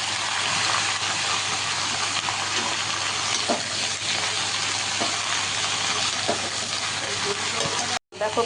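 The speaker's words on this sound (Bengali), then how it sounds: "কড়াই একটু তেল দিয়ে দিয়েছি, এবার দিয়ে দিচ্ছি পাঁচফোড়ন পরিমাণ মতো" Panch phoron spices fry in hot oil in a wok, a loud, continuous close sizzle with occasional stirring knocks that cuts out briefly near the end.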